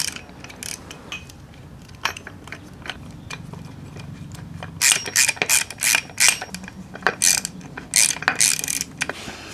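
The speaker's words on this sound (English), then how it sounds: "One thing we're gonna have to move over is this little piece, which is gonna require a T30 Torx bit." A ratchet driving a T30 Torx bit removes a small part during a Chrysler PT Cruiser motor mount job, with close, sharp clicking in quick irregular bursts that grow louder in the second half, and no voices.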